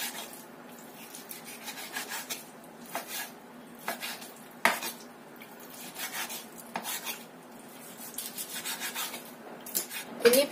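A knife taps and scrapes through chicken meat on a cutting board in irregular bursts, with a faint steady hum behind the quiet, close-up chopping.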